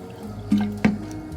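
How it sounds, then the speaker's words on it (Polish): Cold sparkling water poured into a single whole egg in a kitchen, two short splashy pours with watery fizz, close and fairly quiet, no talking. "Do jajka dodaję kubek zimnej, kubek 250 ml zimnej gazowanej wody."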